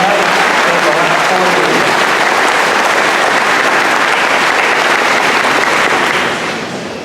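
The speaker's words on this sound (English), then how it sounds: "How about one more round of applause for Ariel for all the hard work tonight" Loud, sustained applause from a crowd at a community college class of 2016 graduation ceremony, a thick wash of clapping that continues evenly before easing off at the very end.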